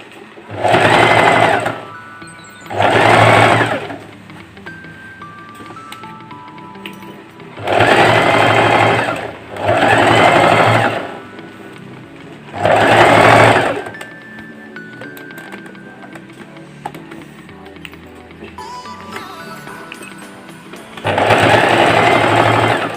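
Sewing machine stitching clothing, loud close whirring bursts of a few seconds each, separated by quieter pauses with faint clinks and handling.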